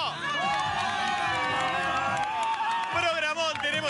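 A large crowd at a concert at the Masters of Rock festival in Argentina cheering and shouting loudly, continuous excited voices and whoops swelling throughout, with no single speaker standing out.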